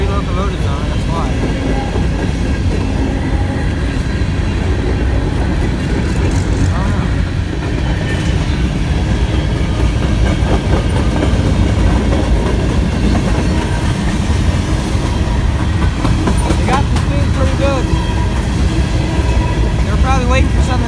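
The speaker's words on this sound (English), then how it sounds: "They got up to speed pretty good, I'll tell you what. They got 3 locomotives on it" A Norfolk Southern train with three locomotives passes at speed near a station, a continuous loud rumble and clatter of railcars and wheels, with people talking over it.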